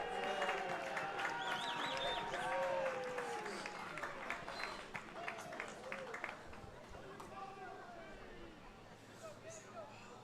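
Crowd at a college baseball game cheering a stolen base: a loud, steady wash of cheers and mixed voices that slowly fades, with people talking throughout.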